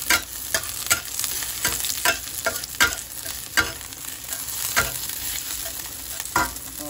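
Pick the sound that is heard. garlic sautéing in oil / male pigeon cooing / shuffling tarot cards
garlic sautéing in oil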